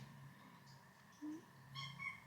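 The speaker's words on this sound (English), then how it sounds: "those are the kittens" Kittens mewing faintly indoors, with a short rising meow in the middle and a few thin, high cries near the end over quiet room noise.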